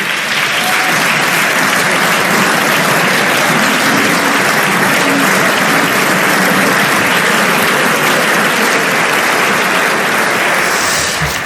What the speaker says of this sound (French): vous entendez donc ces applaudissements